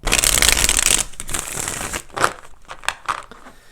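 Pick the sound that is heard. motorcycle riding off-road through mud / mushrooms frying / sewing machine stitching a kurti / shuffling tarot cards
shuffling tarot cards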